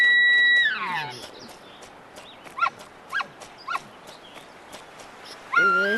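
A hunting dog in Hunting Simulator 2 gives several short, high whimpers and whines spaced across the stretch, with louder whining bursts at the start and end over a soft outdoor background.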